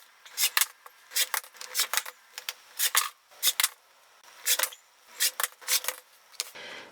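Scissors cut a printed fabric panel into blocks in quick bursts of crisp snipping. The short closely spaced cuts come in clusters with brief pauses between them, close up and with no talking.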